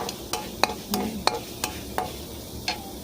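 Curry paste is stir-fried in coconut milk instead of oil for a tuna curry sauce, with about eight sharp spatula taps and scrapes against the pan over a low bubbling sizzle, close and without speech.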